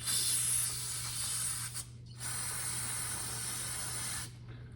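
Brake cleaner sprays onto a 1991 Polaris 440 snowmobile carburetor in two long, loud, steady hissing bursts with a short pause between them, close up and with no talking.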